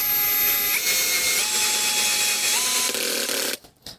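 Heimerdinger LB 176 brushless cordless drill-driver driving a screw, a loud close whirring motor with the clutch slipping and ratcheting, pitch stepping down twice before stopping abruptly, followed by a brief quieter click.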